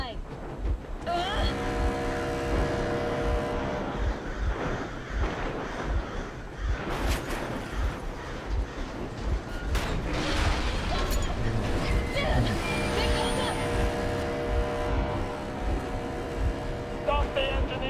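A vehicle engine runs through a loud, continuous drone in the Metro Exodus video game, with bursts of heavier rumble and several sharp cracks partway through.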